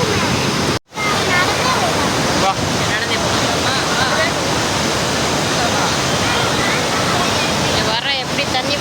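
Water rushes loudly and steadily through Kallanai dam in Trichy, a constant roaring wash with a brief dropout, and people's voices mixed into the roar.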